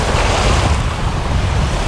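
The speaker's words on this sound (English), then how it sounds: "little baby waves that are not gonna kill me, no sharks" Small freshwater waves lap a Michigan beach as a steady, loud, close rush of water and wind noise buffets the microphone, with no voices heard.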